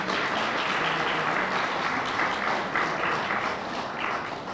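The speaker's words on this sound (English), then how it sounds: "Let's give our president a round of applause." A university lecture audience claps for the university president, a continuous wash of applause from a large crowd at moderate volume that fades gently toward the end.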